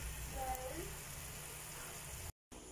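Pork tapa frying in a pan, a steady low sizzle and crackle running continuously at moderate level, cutting out briefly near the end.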